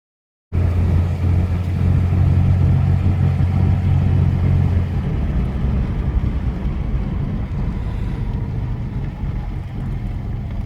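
A 1982 Chevrolet S-10 truck drives along with its engine running, a loud, continuous low rumble and drone that holds steady and then eases off slightly, heard from inside the cab with no talk.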